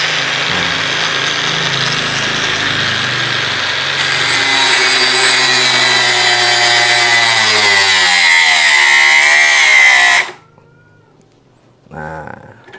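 A Dongcheng DCSM04 power saw screams at full speed, its pitch dropping as it winds down after being switched off, then a short burst as it starts again near the end.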